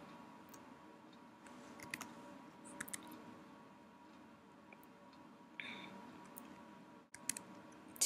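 Soft, sparse keyboard clicks tap out in short irregular bursts against a quiet background hum.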